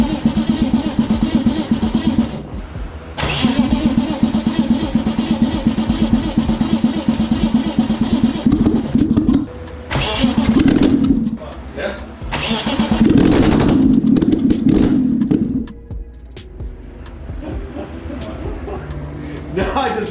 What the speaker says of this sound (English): I just love the sound of an engine with no exhaust on it.